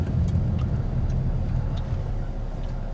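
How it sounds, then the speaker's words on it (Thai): A Chinese truck drives along the road between Vang Vieng and Luang Prabang in Laos, giving off a loud, steady low rumble of engine and tyres with no talking. "รถบรรทุกจีน"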